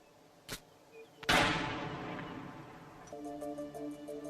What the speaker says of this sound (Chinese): 拍摄高速飞行的步枪子弹，可看到2种不同的震波。